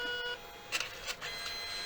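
Dye sublimation printer running a color pass while printing onto a guitar pedal case, giving a steady mechanical hum with a few brief clicks and whirring bursts, close and fairly quiet.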